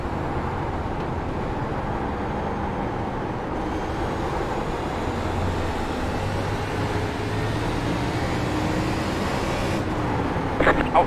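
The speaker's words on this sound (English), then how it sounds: "Brian, we're gaining on the car in front." NASCAR Cup cars race around USA Speedway in the iRacing sim, a continuous loud engine drone with shifting pitch bands that roars steadily without a break, ending with a brief rattle.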